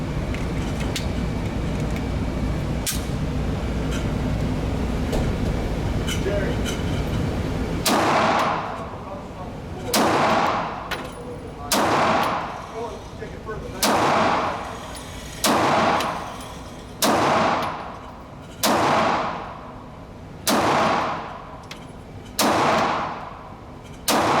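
A Kahr X9 pistol fires while loaded from a Hellcat 10-round magazine. After a quiet, low-noise opening, about nine sharp, loud shots ring out one at a time at a slow, steady pace, each with a short echoing tail.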